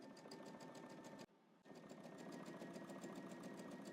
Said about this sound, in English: Top stitch across.